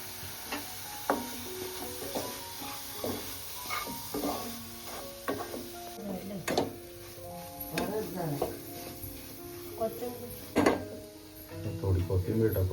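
Ingredients mixed together in a pot for a Marathi amti: clinking spoon against metal, scraping stirs and intermittent knocks, close and moderately loud, with talk and a faint sizzle underneath.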